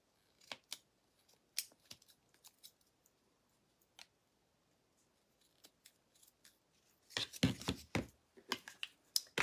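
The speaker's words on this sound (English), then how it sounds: "I'm basically just trimming up the edges off the tree, or off the fabric" Scissors trimming the edges of fabric, giving sparse sharp snips spaced apart, then a faster burst of several close cuts near the end.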